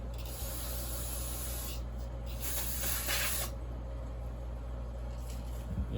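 Brake cleaner aerosol sprays in a few bursts onto the tip of a STIHL chainsaw bar, a steady close hiss swelling and easing over a low background hum with no talking.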